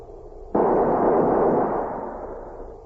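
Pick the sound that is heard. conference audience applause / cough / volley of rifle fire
volley of rifle fire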